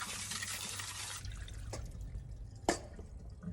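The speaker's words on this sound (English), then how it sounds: "We're just going to go ahead and drain the vinegar off. And then we'll rinse the eggs." Vinegar drains off eggs and they are rinsed with water: a faint pouring wash at first, then sparse close drips and a small splash.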